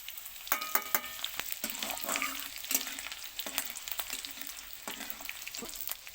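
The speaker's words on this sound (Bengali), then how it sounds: "একটু অন্য সিস্টেমে ভাজবো প্রথম আমি দিয়ে দেবো তেল শুকনো ঝাল আর দুটো কাঁচা ঝাল কুচুনো" Dried red chillies and chopped green chillies frying in hot oil, giving a steady close crackling sizzle with sharp pops and occasional stirring clatter throughout, no voices.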